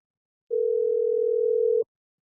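A telephone dial tone plays as one steady, unbroken hum lasting over a second, loud and alone, then stops abruptly.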